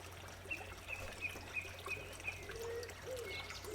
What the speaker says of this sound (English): one of my many water features after a spring rain. I find the sound very calming